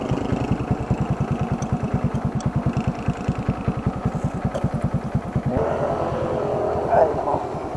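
A motorcycle engine idles close by with a rapid, even chugging pulse, then the tone shifts and roughens as it revs slightly near the end; a voice is briefly heard over it.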